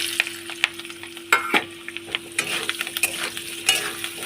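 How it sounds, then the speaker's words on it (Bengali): Chopped coconut and potatoes frying together in a pan, a steady close sizzle with scattered stirring scrapes and light utensil clinks throughout. "নারকেল আর আলুগুলো আমি একসাথে ভেজে নেবো"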